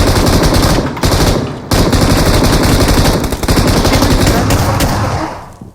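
Shotgun gunfire in the BGMI battle royale mobile game, loud and close, with sustained rapid bursts broken by two short pauses before fading out.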